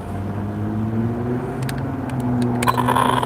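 An Arrma Kraton 8S EXB RC car motor runs, giving a steady electric whine and rumble that swells slightly toward the end, with a few light clicks near the close.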